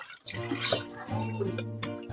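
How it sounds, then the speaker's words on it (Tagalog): Water running and sloshing while a cooking pot is washed, a continuous splashing and trickling with a low steady hum beneath it and a faint voice in the background. "Hugasan muna natin yung kaldero."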